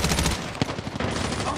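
Rapid automatic gunfire bursts loud and close in Call of Duty Mobile on the Nuketown map during a team deathmatch, a dense rattling stream with sharper reports mixed in.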